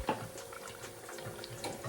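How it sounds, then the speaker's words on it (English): Steamed calaloo and cabbage being poured from a pot into a container, giving a soft, wet, continuous splashing and sloshing for under two seconds, close by and fairly quiet, with no talk. "now I'm gonna pour it out in my bowl, get it out in this container"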